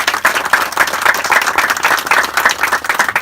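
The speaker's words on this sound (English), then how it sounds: "So I'd just like if everybody could join me in a round of applause for everybody that's done" Sustained crowd applause and clapping at an outdoor respite site dedication ceremony for a fallen corporal, steady and dense from start to finish with no pauses.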